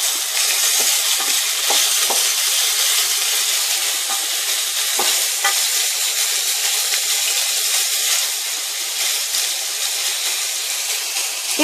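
Steady frying hiss from a pan of tomato and eggplant preparation being stirred, loud and continuous with faint scraping ticks throughout, no voices.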